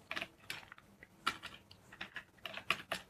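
Someone types on a computer keyboard, close and quiet, with clusters of rapid clicky keystrokes coming in short bursts and brief pauses between them.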